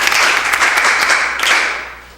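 Applause from an audience at a quiz competition welcoming the director of Education TV Nigeria, a dense steady burst of many hands clapping at once, loud and close, then tapering off.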